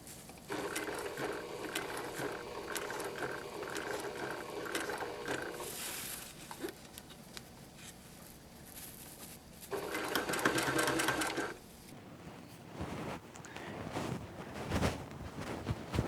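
A sewing machine stitches across a tote bag strap in close, rapid mechanical bursts, running steadily for several seconds, pausing, then racing again in a short louder run.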